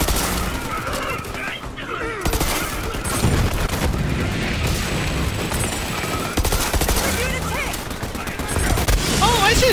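Rapid video game gunfire in Borderlands 3, aimed at cardboard targets: dense, loud bursts of shots with booming impacts running nearly continuously, with a voice talking over it at times.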